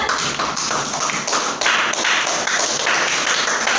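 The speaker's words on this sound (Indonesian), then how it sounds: "Ya, tepuk tangan buat tim kontra." Audience at a school debate on full-day school in Indonesia applauds steadily for the opposing team, a dense, continuous wash of many hands clapping close and loud throughout.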